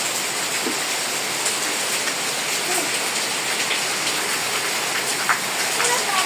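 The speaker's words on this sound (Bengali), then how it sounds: "অনেক জোরে বৃষ্টি হচ্ছে আজকে।" Steady, dense downpour of heavy rain hissing on surfaces, loud and continuous throughout with scattered drops pattering nearby.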